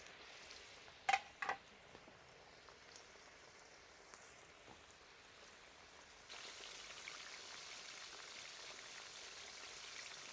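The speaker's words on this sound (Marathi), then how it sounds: "आपण हे तेलामध्ये थोडा वेळ तळून घ्यायचे" Whole bananas frying in hot oil, a soft, steady hiss and crackle like light rain that grows slightly louder partway through, with a couple of brief clinks near the start.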